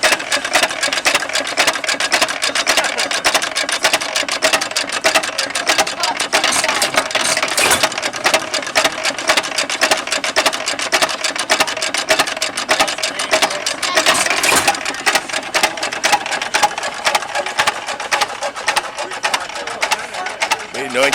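A 1911 farm engine fitted in a 1956 Willys runs steadily and loudly close by, giving a continuous, busy mechanical clatter with a dense rattling texture at an even speed throughout.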